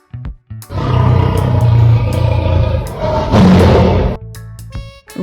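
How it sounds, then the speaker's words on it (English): A lion gives a loud, deep, sustained roar that swells and rumbles for several seconds, then tails off into short grunts, with nothing else around it. "Lion."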